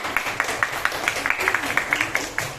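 An audience applauds a group that has just finished presenting, a steady patter of many hands clapping with sharp repeated peaks. It fills the room at moderate loudness, with a low murmur underneath.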